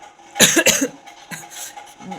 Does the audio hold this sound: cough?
yes